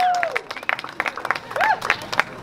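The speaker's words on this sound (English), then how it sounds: "more people clapping to help out my ego." A small crowd on a beach claps in scattered, uneven bursts during a street performance, with a few whistles and faint cheering mixed in.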